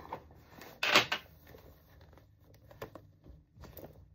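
A single short pull of a purse's zipper pocket, quick and close, followed by quiet handling sounds.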